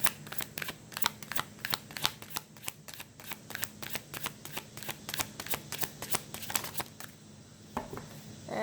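Tarot cards being shuffled up close, a rapid series of crisp riffling snaps and slaps repeating in an uneven rhythm for several seconds, with no talking.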